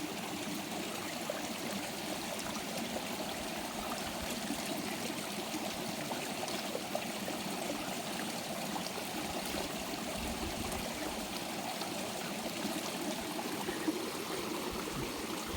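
Fresh stream water flowing in the Nallamala forest, a steady, close, continuous rush and trickle with no talk over it.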